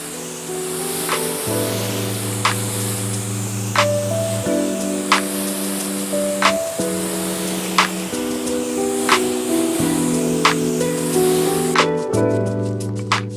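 A pressure-washer spray rinses a new Ford F-150 Lightning pickup with a loud, steady hiss of water close by. Sharp clicks recur every second or so, and a background tone plays throughout.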